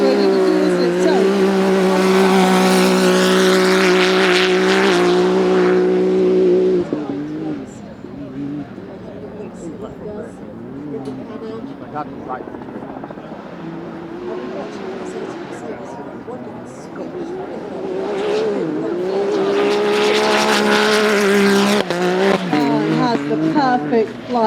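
An off-road car at the Goodwood Festival of Speed 2021 roars loudly and steadily up the course, its engine rising and falling beneath continuous commentary.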